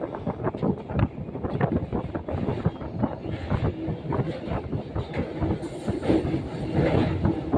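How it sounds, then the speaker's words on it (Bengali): A train rolling across the Churni river bridge near Kalinarayanpur station, a loud continuous rumble with rhythmic clacking of wheels over the tracks and some wind buffeting, close by. "ট্রেন এখন ক্রস করবে চূর্ণী নদী"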